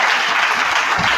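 A church congregation bursts into loud, steady applause, a thick wash of many clapping hands filling the room for the whole moment.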